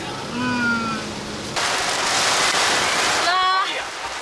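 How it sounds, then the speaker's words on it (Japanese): Heavy rain pours over a mountain campsite in Oita during car camping, a dense steady hiss that swells and fills the middle of the clip while people talk over it. "やっぱり山の天気は変わりやすいな。"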